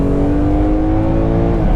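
A BMW M3 with the S54 engine revs hard at high rpm, heard from inside the cabin as a loud, steady, sustained engine roar with a strong harmonic whine and no talk over it.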